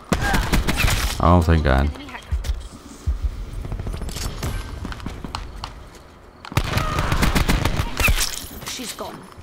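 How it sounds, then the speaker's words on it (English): Rapid automatic fire from a new SMG in a shooter video game, dense bursts of shots with a gap in the middle, mixed with other game sounds while a player speaks over it. "Yep, see, that's the new SMG."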